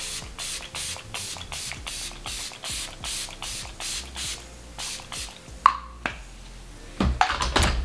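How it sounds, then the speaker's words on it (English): Sephora makeup setting spray misted onto a face in a long run of short, even pumps, about a dozen rhythmic sprays close to the mic, followed by a few sharper clicks and handling knocks near the end. "So to set my face, I'm just gonna go in with the Sephora makeup setting spray."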